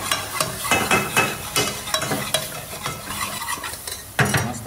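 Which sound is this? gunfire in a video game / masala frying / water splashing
masala frying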